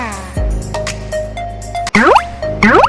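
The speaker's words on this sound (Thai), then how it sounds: "แล้วก็เอามาจุ่มนะคะ กับ น้ำที่เราต้มให้เดือดนะคะน้ำซุป" Thinly sliced pork dipped into boiling shabu soup broth in a hot-pot restaurant, giving a few wet plops and bursts of bubbling liquid, close and fairly loud, over faint steady tones.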